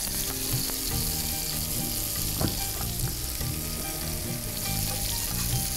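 Paratha frying in a pan, a steady close sizzle with crackling oil and an occasional small pop or scrape, continuous and fairly loud with no voices.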